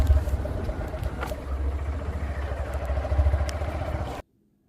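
A motorcycle carrying a passenger rides along a road on a Jagaddhatri Puja outing, with a continuous low engine rumble and wind noise close by, steady throughout until the sound cuts off sharply.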